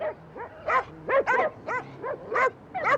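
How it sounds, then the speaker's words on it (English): Numerous dogs bark and yip in quick, irregular bursts of varied pitch, a lively overlapping chorus close by with no talking. "I've never heard so many dogs."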